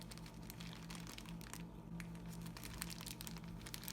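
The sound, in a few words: plastic bag crinkling, gathered around a spray bottle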